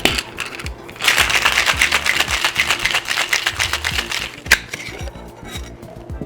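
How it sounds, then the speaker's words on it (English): Ice rattles hard and fast inside a cocktail shaker holding rum, lime juice and honey syrup at a speakeasy bar, a dense rhythmic clatter lasting several seconds before a final knock and quiet. "I'm going to do a ½ ounce of lime juice, ½ ounce of a honey syrup, and we're going to shake that up."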